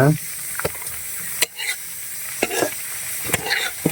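Luchi frying in hot oil while being stirred, a bubbling sizzle with repeated scraping strokes and soft clatters, close and fairly loud.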